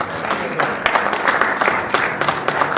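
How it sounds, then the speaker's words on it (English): Audience clapping at a city council meeting, a dense round of applause at moderate distance with scattered sharper claps standing out. "Can we give these people a round of applause?"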